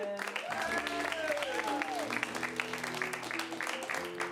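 An audience at an improv comedy show applauds the players, a steady wash of clapping with a voice and tonal sounds carrying over it.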